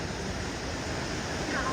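The Melamchi river flows in a steady, even rush of water, moderately loud and continuous throughout with no breaks.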